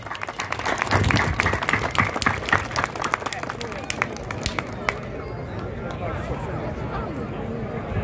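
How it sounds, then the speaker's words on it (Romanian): At a village festival for the commune of Dumitrești, a crowd claps for the mayor: dense, loud applause for about five seconds that thins out and fades into background chatter. "Aplauze pentru domnul primar!"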